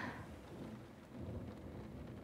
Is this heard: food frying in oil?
no